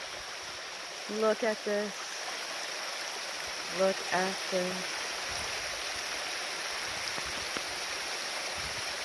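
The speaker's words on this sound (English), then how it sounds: "So here's more of the waterfall." A waterfall in Transylvania pours steadily in a continuous broadband rush, with a person talking briefly over it in two short bursts.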